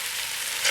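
Chunks of yucca fry in a cast iron pan, a bright, dense sizzle that hisses continuously up close, with no speech over it.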